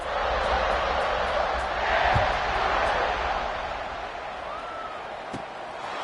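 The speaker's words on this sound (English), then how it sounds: "this crowd is feeling themselves after that last drive" A football stadium crowd at a Georgia versus Arkansas college game roars in a steady, broad wash of cheering that swells slightly and then eases off, with no distinct voices standing out.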